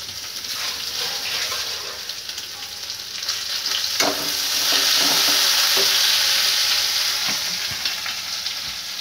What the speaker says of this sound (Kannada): ಈ ರೀತಿ ಮಿಕ್ಸ್ ಮಾಡೋದಕ್ಕೆ ಬಟ್ಟೆ ಇಟ್ಕೊಂಡು ಹೀಗೆ ಚೆನ್ನಾಗಿ ಮಿಕ್ಸ್ ಮಾಡ್ಕೋತಾ ಇದ್ದೀನಿ